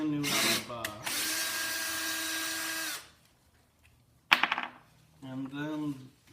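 A brand-new power drill drives a countersink-head wood screw into wood in a sustained whirring burst of about two seconds, followed after a pause by short ratcheting bursts, with a voice speaking briefly before and after.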